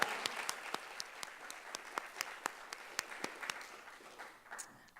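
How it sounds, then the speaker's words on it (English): Sparse, scattered clapping from a small group at a symposium, individual claps spaced and fairly quiet, thinning out toward the end. "I just have to clap again for that."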